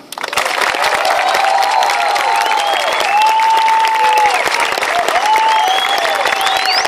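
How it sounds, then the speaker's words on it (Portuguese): A crowd applauds the inauguration of a new Sesc cultural centre in Sorocaba before a concert, sustained loud clapping with whistles and cheers over it. "uma salva de palmas para o novo Sesc"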